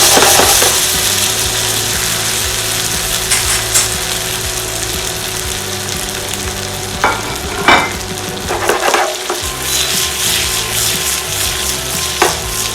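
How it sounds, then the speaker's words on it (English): Gnocchi sizzling loudly in a hot frying pan, a dense continuous fry with bursts of tossing and scraping in the later half, close and without speech. "Now we'll pop the gnocchi in here."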